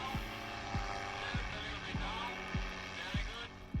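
A light propeller airplane runs at steady power during its first-flight take-off run, a continuous loud engine drone with rhythmic low thumps about every 0.6 seconds, heard close and alone.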